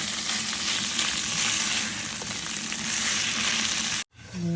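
Lamb pan-fries for kabsa, a loud continuous close sizzle with light stirring that cuts off abruptly near the end, no talking.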